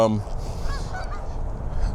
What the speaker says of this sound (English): I think some ducks and also some geese.